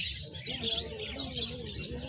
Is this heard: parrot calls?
yes